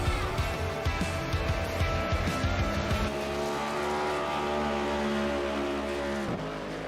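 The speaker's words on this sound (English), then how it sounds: "We'll really get to hear the sound of these next-gen cars." A next-gen race car driven by Paul Granata accelerates on track at a charity race. A loud, harmonic engine howl rises in pitch through the gears, and tire squeal and rough mechanical clatter come through at first.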